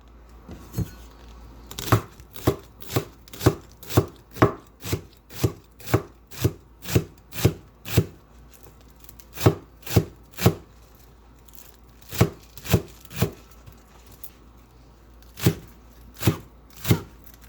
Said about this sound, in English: I'm gonna take it in and chop into pieces